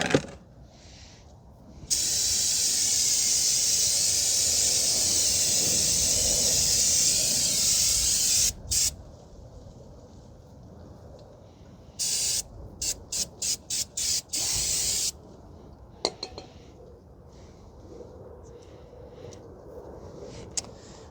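Aerosol brake cleaner sprayed in a long steady hiss over the brake area of a 2019 Honda Civic 2.0, followed by a series of short sharp bursts, close and loud, with wind noise around.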